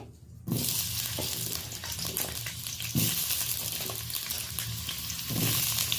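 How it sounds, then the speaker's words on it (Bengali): Potatoes hit hot mustard oil with salt and turmeric in a pan, breaking into a loud, steady sizzle after a brief quiet start, with occasional scraping stirs underneath. "লবণ হলুদ দিয়ে আলুটা হালকা লালচে করে ভেজে নেব"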